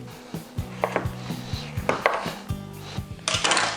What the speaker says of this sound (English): we're going to cut it into nice little cubes